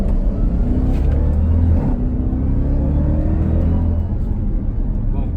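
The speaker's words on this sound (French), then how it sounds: "Alors Flo, au volant de ce Trackhawk" A 2020 Jeep Trackhawk with a 707 hp V8 heard from inside while driving, giving a continuous deep rumble that rises and falls slightly under a faint cabin hum.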